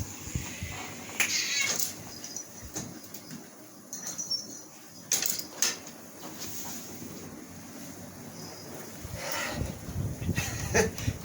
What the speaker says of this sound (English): Cats are playing outside.